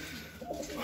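Fancy pigeons sitting on a perch rod give a soft, low coo, faint and brief against a light background hum.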